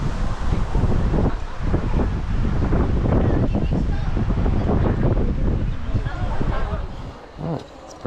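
Wind gusts constantly across an outdoor treetop adventure course on a breezy August day, a loud rumbling buffet on the microphone that persists throughout and eases slightly near the end.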